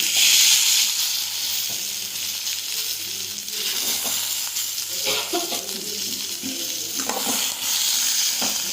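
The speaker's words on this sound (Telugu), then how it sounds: "ఈ దొండకాయ ముక్కలను కూడా కొంచెం వేయించుకోండి." Chopped ivy gourd (dondakaya) pieces frying in a little oil in a pan, giving a steady, close, loud sizzle with occasional stirring scrapes throughout.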